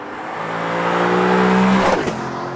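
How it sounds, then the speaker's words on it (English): A 2020 Lexus LC 500 with its V8 engine, a loud rising roar that swells and holds a steady pitch, then breaks off sharply near the end as the revs change. "the intoxicating roar of that V8"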